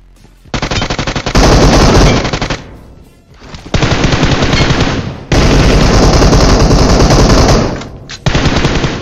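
Loud, close automatic gunfire in a shooter video game comes in several long rapid bursts separated by short pauses.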